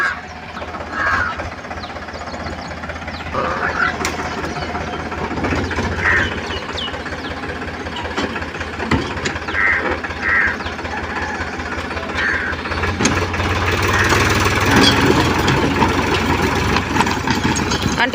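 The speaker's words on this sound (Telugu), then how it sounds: "సో అందుకనే రోటావేటర్ వేస్తారు అంట" A tractor pulling a rotavator through a farm field, its engine droning steadily at mid distance for the whole stretch with a rough, churning rumble, growing somewhat louder toward the end.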